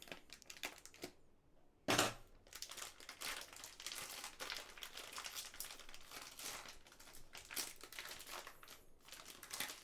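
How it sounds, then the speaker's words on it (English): Scissors cut open the plastic pouch of an MRE ration, a quiet crinkling and snipping that comes close up, with one sharp crackle near the start and steady rustling of the wrapper after it. "So I'm going to cut it open with these scissors on the top."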